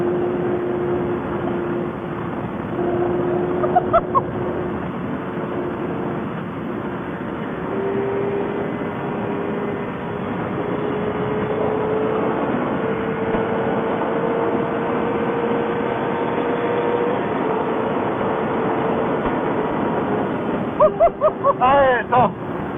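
A sport motorcycle on a German highway accelerates in fourth gear as a steady engine whine rises slowly in pitch under heavy wind roar, with a few brief clicks and knocks near the start and end.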